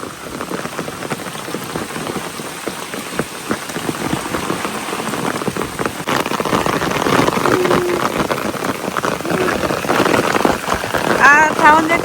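Heavy rain pours onto a village pond with freshly dug soil and onto a nearby umbrella, a loud close hiss of dense drops that swells in the second half, with a brief faint voice near the end.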